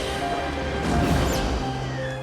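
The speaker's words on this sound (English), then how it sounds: "2 grenades bounced off the glass, destroying all the insect eggs." In a film scene, grenades bounce off glass and explode, destroying insect eggs: a crashing, smashing burst that swells in the middle of a dense, continuous, loud soundtrack.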